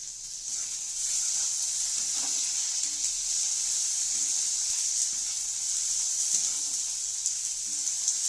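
Chopped tomatoes sizzle in a pan over crushed garlic for masala Maggi noodles, a steady close hiss running without pause and broken by a few faint stirring taps.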